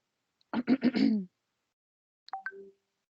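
A short burst of several quick coughs up close from a lecturer during a process engineering class, followed after a pause by a brief throat sound and a faint click.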